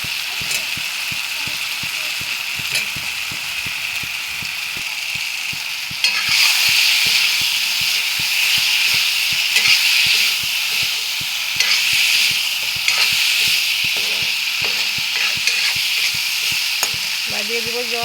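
Fish roe pakoras sizzle steadily in hot oil in a pan, with a rapid, regular scraping of a spatula stirring throughout; loud and close, with the sizzle swelling midway.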